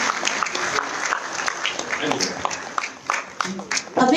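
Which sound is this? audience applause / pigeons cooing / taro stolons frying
audience applause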